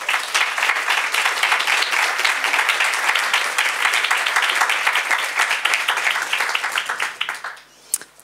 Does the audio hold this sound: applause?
yes